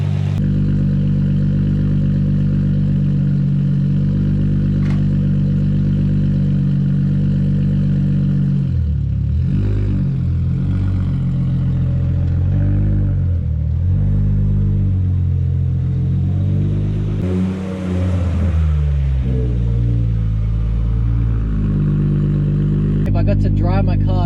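Nissan Skyline R33 with a forged RB25DET engine on a test drive: a loud, close engine drone with shifting tone as it pulls away, revs and changes speed, with a brief clatter near the end.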